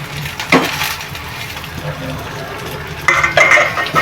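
Chopped tomato stirred into onions already browned in a pan while cooking dried Bombay duck masala, with scraping spoon strokes and clattering bursts over a low background murmur.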